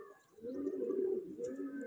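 Soft, low pigeon cooing, a steady burbling coo close by with a faint higher chirp near the end.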